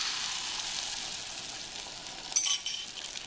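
Beaten egg hitting a hot sauté pan for an omelet, giving a loud, bright, hissing sizzle that stays steady, with a brief clink of a utensil near the end.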